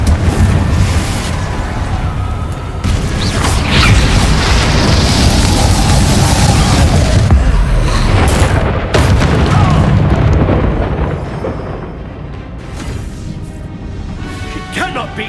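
Confringo spell blasts in the video game Hogwarts Legacy, loud booming explosions and crashes repeating over a dense rumbling battle mix, with character voices shouting throughout and the action easing off near the end.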